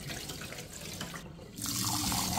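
Tap water pours into a pot of rice being rinsed, a continuous splashing flow that briefly dips and then returns fuller and louder.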